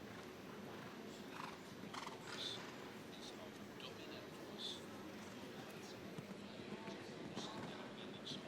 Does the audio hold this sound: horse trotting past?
yes